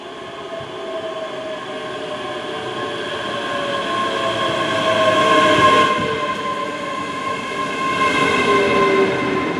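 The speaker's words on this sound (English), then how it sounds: "We are waiting for the 2034 ScotRail service to Glasgow Central." A ScotRail train moves along a platform at Stirling station with a loud, sustained rumble and tonal wheel squeal that swells and holds, with no voices.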